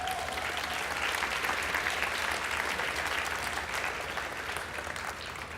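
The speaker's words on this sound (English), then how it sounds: "I think they deserve a round of applause" Audience applause at a college commencement for graduates' families and supporters, a broad continuous roar of clapping that holds strong and eases slightly near the end.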